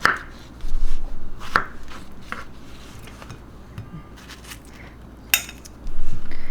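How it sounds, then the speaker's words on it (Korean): A knife cuts soft, overripe strawberries into small pieces on a board, giving a few dull, close chopping thuds with short pauses and a faint clink of utensils between strokes. "그래서 먹기 좋게 그냥 요렇게 조그맣게 조금 조금씩 썰어 주시고요."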